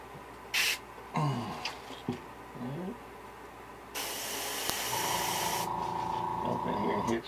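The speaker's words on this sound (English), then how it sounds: "Spray a little bit into that black or brown" An airbrush sprays paint onto a fishing lure in short hissing bursts, then a longer steady spray, all close by, with a few brief knocks and scrapes between passes.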